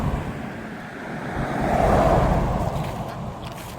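A car passes on a road beside the Appalachian Trail, swelling from a distant rush to a nearer whoosh and fading again under steady wind.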